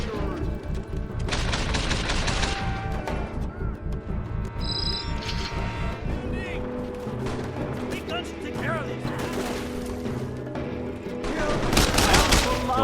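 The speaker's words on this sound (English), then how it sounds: "there's too much gunfire descending upon me" Heavy gunfire in the video game Mercenaries 2: World in Flames: dense, continuous volleys of rapid shots and booming impacts crowd together throughout, loud and relentless, with game music and effects layered underneath.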